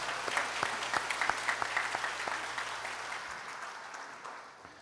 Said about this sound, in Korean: 우리 하나님께 영광의 박수 돌립니다.